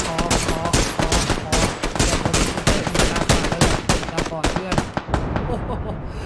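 Rapid bursts of automatic gunfire crackle nonstop and loud through a competitive video game scrim match, with shots overlapping in dense volleys while an excited commentator talks over them.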